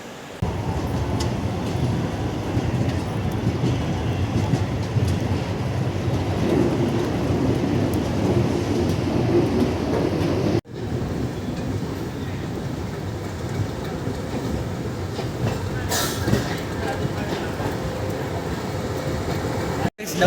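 A MEMU fast local train pulls out of MGR Chennai Central bound for Arakkonam, giving a steady, loud broadband rumble of running carriages that dips briefly midway, then continues at a slightly lower level.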